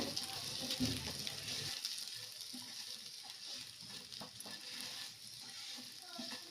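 Coriander powder and spices frying in oil in a pan, a steady close sizzle with stirring scrapes throughout, louder at first and then settling into a softer continuous crackle.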